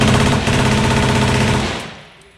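Rapid automatic gunfire at a shooting range, a dense continuous burst of loud shots lasting about two seconds before cutting off and ringing out.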